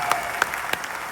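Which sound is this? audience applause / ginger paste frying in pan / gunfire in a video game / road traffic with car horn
audience applause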